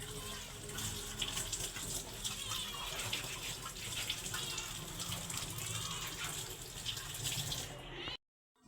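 Running tap water splashes steadily while jackfruit and fish are washed at a kitchen sink, a continuous close gushing that cuts off abruptly at the end.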